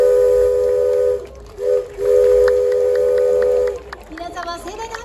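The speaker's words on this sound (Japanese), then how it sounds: "ただいまの汽笛はこの SL に取り付けられている汽笛" A loud steam whistle mounted on a preserved SL steam locomotive at a school unveiling ceremony sounds in long sustained blasts, briefly broken and resumed, then fades as crowd noise and voices rise.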